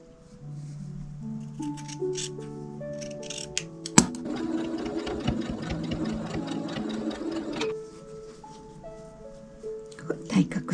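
A sewing machine stitches a quilted table centre in bursts of rapid, even mechanical clatter. Quieter whirring and handling noises fall between the runs, and a sharp click comes partway through.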